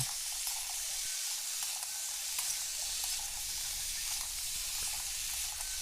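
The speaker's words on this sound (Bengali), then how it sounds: "সবজিগুলো দিয়ে দিন সবজিগুলো দিয়ে ভালো করে নাড়াচাড়া করে" Cauliflower and pumpkin vegetables sizzle steadily in hot oil while being stirred for a vegetarian curry, a continuous close frying hiss with faint scraping throughout.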